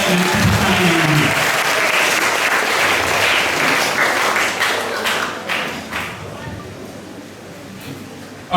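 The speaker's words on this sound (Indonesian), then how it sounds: "Kita sambut kedua dokter kita dengan tepuk tangan yang meriah." Loud, sustained audience applause at a school book discussion event as two doctors are welcomed onto a literary stage, a dense crowd clapping that gradually thins out, with voices mixed in.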